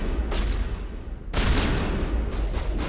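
Bursts of gunfire from a firefight in Mass Effect Legendary Edition, loud and dense, with a brief lull before another heavy volley, and no talk over it.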